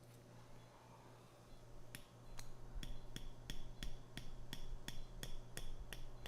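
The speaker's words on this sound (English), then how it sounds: "I hit my own finger with the hammer" Hammer strikes during a chiropractic back treatment for a collapsed, degenerated lumbar disc, a run of sharp, evenly spaced taps, about a dozen in quick rhythm, crisp and close over a low room hum.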